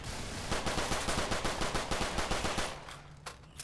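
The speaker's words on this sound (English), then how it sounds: "Well, machine gun, yeah." Rapid machine gun fire in the Left 4 Dead 2 video game, a continuous rattling burst of evenly spaced shots, loud and close, tapering off at the end with a couple of stray shots.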